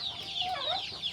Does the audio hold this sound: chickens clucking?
yes